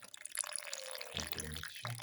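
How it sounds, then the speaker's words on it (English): 200 ml of milk pouring into a blended strawberry and dates smoothie mixture, a soft, faint liquid splash and trickle lasting about two seconds, close and quiet. "Now pour in 200 ml of milk"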